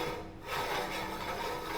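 Meat grinder part being threaded back onto the machine by hand without tools while making summer sausage, a steady close rasping, rubbing scrape that runs continuously for under two seconds with no voices.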